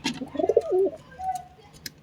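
A pet pigeon from a breeding pair gives a short, close, rounded coo lasting under a second, followed by faint background rustling.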